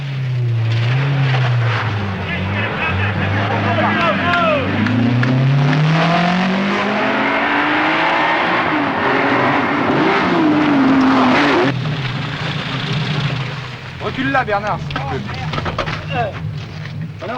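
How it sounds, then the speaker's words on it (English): 1977 Tour de Corse rally cars, Fiat and Triumph TR7, roar past with engines revving and pitch sweeping up and down as they accelerate and shift, loud and close, with a narrator talking over them throughout. "As the cars drove into the only rest halt in the rally at 1 a.m. Sunday, Darniche's lead was confirmed"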